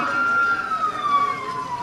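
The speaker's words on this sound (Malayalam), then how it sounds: "ആംബുലൻസ് വരുന്നുണ്ട്, നിങ്ങൾ മാറി നിൽക്കണം, വഴിമാറി." An ambulance siren wails with a steady, slowly falling tone, fairly close and loud, with faint voices and street noise underneath at a crowded public meeting.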